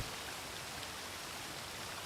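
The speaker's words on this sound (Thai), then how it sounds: "น้ำตกเราอยู่บนเหนือน้ำตก" A waterfall in the video game Mirror of Heaven rushes as a soft, steady hiss of falling water, faint and continuous with no voices.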